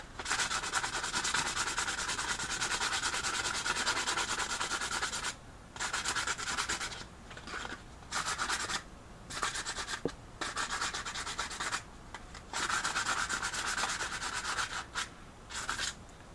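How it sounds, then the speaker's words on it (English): Steady abrasive rasping of 100 grit sandpaper worked by hand over a lightsaber blade tip, close and continuous in long strokes with a few brief pauses, no talking. "once the tip is on, I'll also sand the tip with 100 grit"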